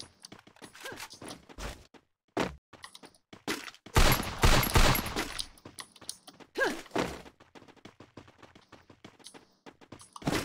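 Gunfire in the battle-royale game Free Fire: scattered sharp shots and short bursts, with a dense loud volley in the middle and quieter pops around it, no talk heard.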